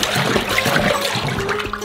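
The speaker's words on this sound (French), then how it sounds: "on utilise un bâton pour mélanger les poudres sèches avec l'eau" Dry cocoa powders stirred into water with a stick in a bowl, a steady wet swishing and sloshing with soft splashy scrapes, close and continuous throughout.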